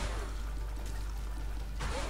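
The Flush item in The Binding of Isaac triggers a toilet flush, a steady rushing pour of water lasting about two seconds over a low hum, with a brief swish near the end.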